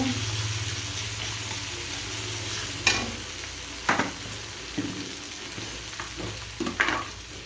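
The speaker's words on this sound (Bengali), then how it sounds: "দেখো এবার একটু হলুদ গুঁড়ো, কাশ্মীরি লাল লঙ্কার গুঁড়ো, কাশ্মীরি একটু ঝাল লঙ্কার গুঁড়ো, এবার একটু নাড়িয়ে নেব" Turmeric and Kashmiri chilli powder being stirred in a pan for aloo dum, with a steady low sizzle underneath and a few distinct scraping strokes of the spoon near the end.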